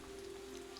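Ambient rain effect playing during a Dungeons & Dragons tabletop session: a steady, even wash of falling rain with a faint constant hum beneath, no voices.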